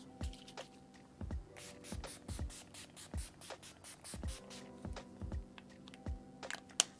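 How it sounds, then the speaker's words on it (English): A quick series of short, sharp bursts of makeup setting spray misted onto a face, about a dozen in a rapid rhythm, each a brief airy hiss, close to the microphone. "Now I'm going to spray my face with a little bit of setting spray."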